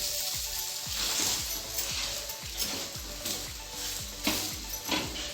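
A green spirulina omelette sizzles steadily in hot oil in a pan, with a continuous close fry hiss and repeated light clinks and taps of a utensil against the pan.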